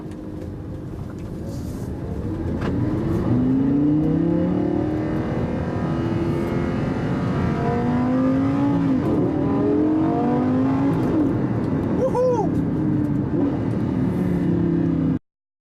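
Lamborghini Gallardo LP560-4 on a quick blast, engine revving hard through rising and falling gear pulls, loud and close with shifts between climbs.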